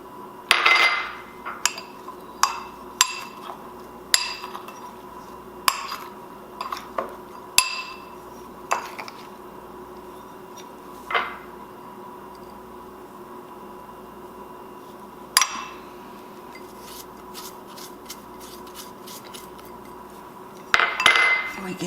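Scattered clinks and knocks of a utensil against a bowl while chickpeas are tossed with spices, sharp irregular taps spaced over a quiet kitchen background, close and without talk.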